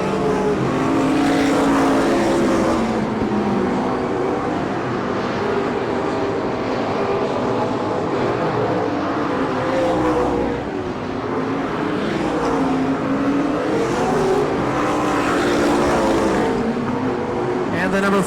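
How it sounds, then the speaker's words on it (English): Open stock cars race at the 1996 Veterans Day Classic in Bakersfield, California, a constant loud roar of engines that swells and fades as cars pass, under steady announcer commentary. "The 11 car of Mike Collins, currently 4th on the track as Poppenhausen works his way through lap traffic"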